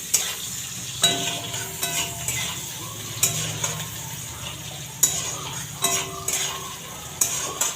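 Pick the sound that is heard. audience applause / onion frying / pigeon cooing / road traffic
onion frying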